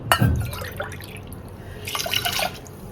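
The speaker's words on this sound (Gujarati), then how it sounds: "હું અહીંયા આઠ વાટકી પાણી નાખી દઈશ એ જ વાટકીનું માપથી આપણે નાખીશું" Water pours from a bowl into a cooking pot of rice, lentils and vegetables for khichdi, a short splashing gush near the start followed by quieter trickling and a second burst of pouring.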